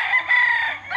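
A White Kelso and Sweater cross gamefowl rooster gives one loud, sustained crow close by, holding a steady strained note for about a second with no talking over it.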